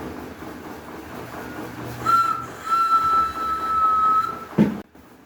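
A person whistles a few sustained, high notes in short phrases, close and clear, ending with a brief thump.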